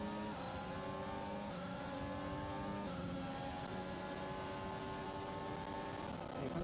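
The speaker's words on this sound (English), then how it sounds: "Do you all hear like audio crackles from your engine?" Racing car engine in the F1 2021 video game at the Spanish Grand Prix, a loud continuous high-pitched whine held steady throughout, with a harsh, crackly edge.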